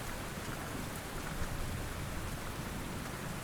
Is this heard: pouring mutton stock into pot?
no